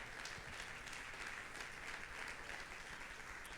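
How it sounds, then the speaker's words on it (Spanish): A church congregation applauds during a Sunday worship service, the clapping faint and distant but steady and continuous. "Dale un aplauso al Señor por la palabra."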